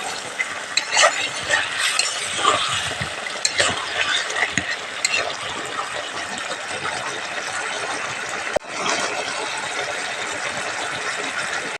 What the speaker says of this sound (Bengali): আমি এখন আলুটাকে নেড়ে দিব